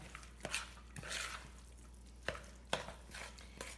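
Stuffed quahog filling being stirred together with egg in a bowl, soft wet mixing with a few sharper clicks of a utensil against the dish, close and quiet.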